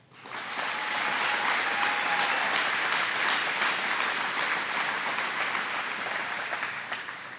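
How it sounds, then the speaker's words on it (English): Graduation audience applauding a salutatorian, a steady wash of many hands clapping that swells quickly and holds loud and even for several seconds before easing slightly. "Feel free to applaud after each"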